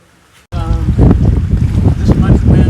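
Wind by a lake buffeting the microphone, a sudden loud gusty rumble that starts after a quiet moment and continues in rough surges, with faint voices underneath.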